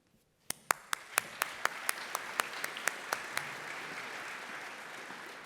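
An awards-ceremony audience at the Minnesota Tekne Awards bursts into applause after a moment of quiet, with a few sharp claps ringing out at the start before the sound settles into steady, dense clapping that carries on to the end.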